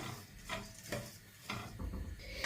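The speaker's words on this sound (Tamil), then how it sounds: "இப்போ பார்த்தீங்கன்னா அரிசி வறுபட்டுது பாருங்க. பார்லி அரிசி நல்லா வறுபட்டுது." Barley rice dry-roasting in a pan, with grains stirred and scraped against the metal in a few distinct strokes over a low rustling background, fairly close and with no talking.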